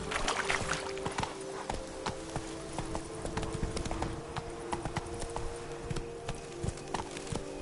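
Horse hooves clip-clopping in The Witcher 3, a steady trotting rhythm of hoof clops with a faint creak and rustle underneath, loud and continuous without pauses.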